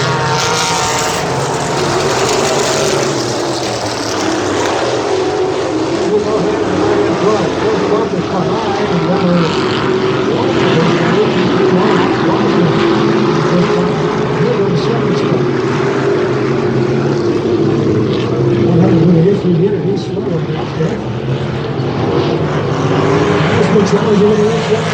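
Factory stock race cars circling a half-mile track, a continuous loud engine roar holding steady throughout with slight swells as the pack passes.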